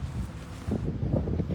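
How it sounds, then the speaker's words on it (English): Gusty wind buffets the microphone, a low rumbling rush that rises and falls in uneven bursts. "Oh, it's windy, look."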